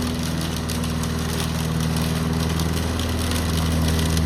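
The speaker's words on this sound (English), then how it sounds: "mowing the lawn" A lawn mower mows and mulches a garden lawn in autumn, its engine droning steadily and loudly throughout at close range, with no speech.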